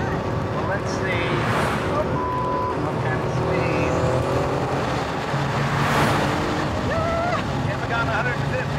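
A fast car drives hard with engine roar and rising, shifting tones, braking hard into a corner, heard from inside under excited voices talking throughout.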